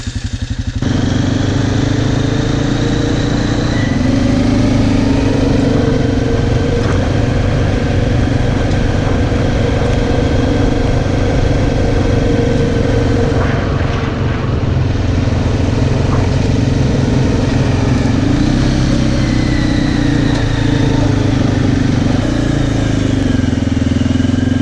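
A custom Honda XL minibike engine runs loud and close while being ridden, a steady buzzing, clattery single-cylinder drone with small rises and dips in revs throughout, no voices over it.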